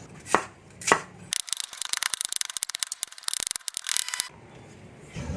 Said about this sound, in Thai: เริ่มหั่นขาก่อนเลยครับ